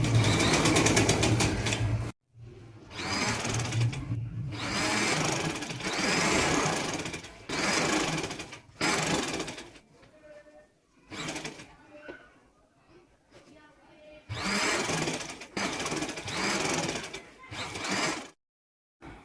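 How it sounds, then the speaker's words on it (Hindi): A sewing machine stitches a seam on a boys' school shirt in several bursts of rapid mechanical whirring, separated by short pauses with quiet handling sounds. "बस इसको जो है ना 2 पाँव की सिलाई लगा लें"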